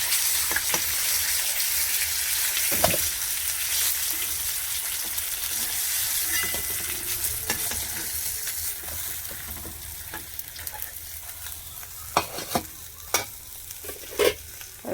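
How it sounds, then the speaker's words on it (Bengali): Fish frying in hot oil until deep red-brown, a steady close sizzle running throughout, with occasional sharp clicks and spatters toward the end. "আমার মাছ ভাজা হয়ে গেছে, ভালো করে ভেজে নিয়েছি লাল লাল করে"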